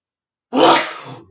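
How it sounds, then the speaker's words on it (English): A single loud, close sneeze breaking out of silence, a sharp burst trailing off into a breathy fade. "I feel like I'm about to sneeze."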